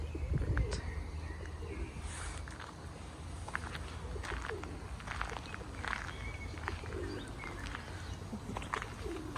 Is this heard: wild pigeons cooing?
yes